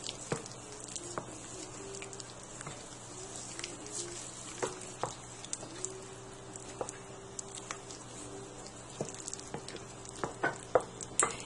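Dried parsley flakes, salt and ground pepper mixed together in a bowl for a vegetable lasagna, soft close scraping and ticking stir sounds at an irregular pace, faint and alone.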